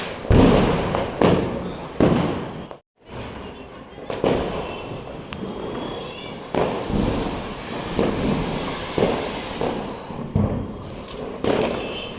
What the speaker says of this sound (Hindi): यहाँ पे खूब पटाखे जला रहे थे बच्चे